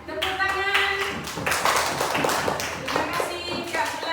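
A classroom of pupils claps together in a quick burst of tapping hand claps, close and fairly loud, while voices talk over it.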